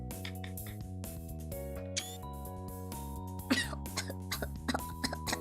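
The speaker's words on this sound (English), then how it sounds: "He coughed." A person coughs in a short cluster of harsh, close bursts midway through, over steady background music.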